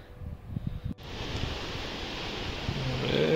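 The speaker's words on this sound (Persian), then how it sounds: "رودخونه" Steady broadband rush of a river flowing near the road on a trip to Alamut, Iran, a rough wash of water running continuously and growing slightly louder, with wind buffeting the microphone.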